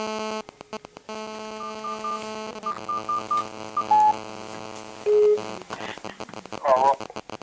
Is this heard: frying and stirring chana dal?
no